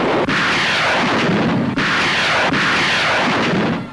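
F-84 Thunderjet aircraft strafing and bombing enemy positions in the hills and valleys of Korea, a continuous loud roar of gunfire and explosions with three sharp bursts standing out, dense and close.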